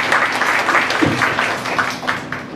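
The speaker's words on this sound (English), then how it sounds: "Okay, round of applause." An audience claps after an executive presentation skills talk, a moderately loud and fairly even burst of hands that fades slightly toward the end, with no voices over it.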